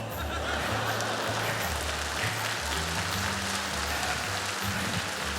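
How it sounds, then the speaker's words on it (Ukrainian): Sustained applause from a large audience at a Ukrainian Liga Smikhu comedy show, a dense even wash of clapping that continues loudly throughout, with a low musical drone underneath. "Можна так довго не аплодувати, дякую"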